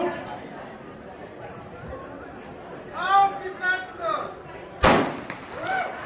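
Starting cannon fired at the Cologne half marathon start by the RheinEnergie Stadion, one sharp loud bang near the end, preceded by crowd chatter and a voice, with scattered crowd noise after.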